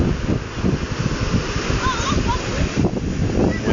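Surf washes in continuously around a crumbling sand castle on a beach, with a steady broadband rush, small splashes and wind noise on the microphone. The waves are close and fairly loud, and they sound as if they are running up higher on the sand.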